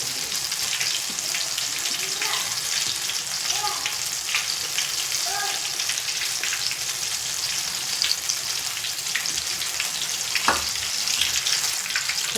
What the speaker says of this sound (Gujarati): મસ્ત આપણા ટમેટાના ભજીયા તળાતા કેટલા મસ્ત લાગે છે